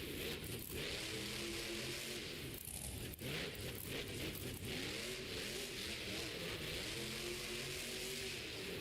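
Monster truck engine at a stadium Monster Jam show, revving hard in repeated rising and falling surges during a sky wheelie, heard distantly over loud crowd and arena noise.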